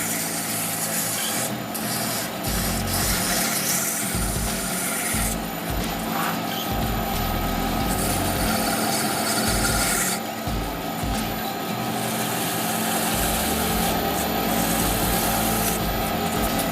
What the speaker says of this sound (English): Next grit.